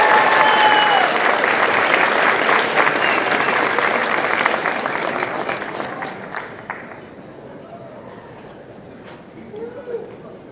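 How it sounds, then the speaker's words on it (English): Loud, dense applause fills a law school hooding ceremony hall for graduates, sustained at first and then thinning out into scattered claps, with a voice briefly audible near the end. "Let's give our graduates one more round of applause."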